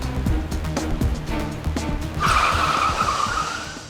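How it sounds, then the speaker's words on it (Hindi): A car in a crime drama skids to a stop, engine rumble and road noise giving way to a sharp, sustained tire squeal that fades out, close and loud, no talking. "क्या हुआ रजत, गाड़ी क्यों रोकी?"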